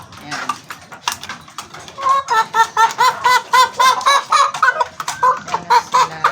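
Hens penned apart so their eggs can be collected, clucking close by in a busy, overlapping flock, the calls growing louder and denser toward the end.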